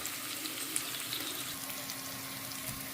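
Curry leaves and green chillies sautéing in a pan, a faint, steady, hissing sizzle with a few small crackles, heard close and without talk.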